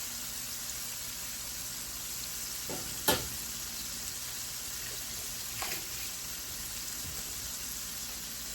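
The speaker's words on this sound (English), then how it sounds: "Now we're gonna let it fry." Mustard-coated chicken fries in oil with a steady, hissing crackle like light rain, broken by a couple of sharp clicks, heard close and alone.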